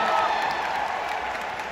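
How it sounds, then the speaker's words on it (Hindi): At a creator carnival event, a crowd breaks into loud, dense clapping with a hint of cheering, strongest at the start and then easing slightly while staying continuous. "बाबू ताली हो जाएगा भैया।"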